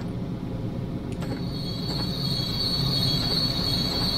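Simulated Long Island Rail Road M7 electric train departing in Train Sim Classic, a steady rolling rumble with a thin, sustained high wheel squeal, swelling slightly louder as it pulls away.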